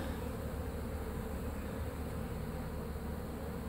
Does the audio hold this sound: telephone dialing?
no